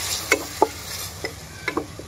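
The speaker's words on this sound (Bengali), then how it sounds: "আগে এটা কষায় নেব, কারণ এই যে আলু দিছি, ডাউল আছে" Diced potatoes and dal for a small child's khichuri being sautéed in a pan, heard as a few short scraping stirs over a faint, steady sizzle, with no talking.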